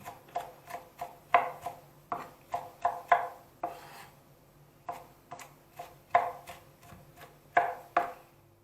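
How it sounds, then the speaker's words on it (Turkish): Vegetables such as peppers finely chopped with a knife on a board, a rapid series of crisp close knocks in quick bursts separated by short pauses. "bakın incele kıydım bıçakla güzelce"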